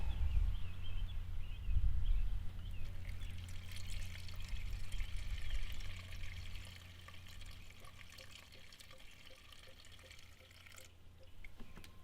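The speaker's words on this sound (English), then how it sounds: "Now you hear everything filling up back there." Coolant pouring into a Pontiac Grand Prix radiator during a radiator install, a loud gurgling, splashing flow at first that settles into a steadier, quieter trickle and bubbling toward the end.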